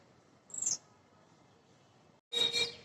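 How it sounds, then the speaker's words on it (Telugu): Beside a mango tree, two faint, brief bird chirps rise over quiet outdoor background noise, one early and a fuller burst near the end. "you can hear the birds చర్పింగ్ also"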